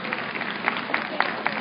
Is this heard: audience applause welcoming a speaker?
yes